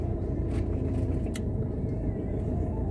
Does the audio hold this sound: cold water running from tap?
no